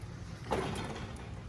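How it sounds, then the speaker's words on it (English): A ball-bearing tool cart drawer glides open, a brief rolling slide with a light click, nearby and fairly quiet. "it's got the ball bearing drawers"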